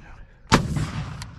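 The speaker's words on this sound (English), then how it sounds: "Rocket!" A single heavy rocket launch bursts out loud and close during a U.S. Marine fireteam exercise in Japan, then rolls off into a rumbling echo.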